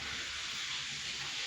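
Onion and capsicum fry in a pan for restaurant-style dry chilli chicken, a steady close hiss of sizzling oil running without a break throughout.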